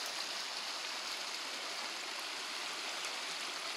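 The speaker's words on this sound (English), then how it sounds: "but I thought I'd show you the creek." A creek on the Butterfield Hiking Trail flowing steadily, a continuous close rushing and babbling of water with no voices over it.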